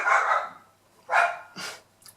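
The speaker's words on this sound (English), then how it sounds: "And the dogs continue to bark." Several dogs bark in three separate bursts spread across a couple of seconds, the first longest and loudest, with a short faint yip at the end and no talking over them.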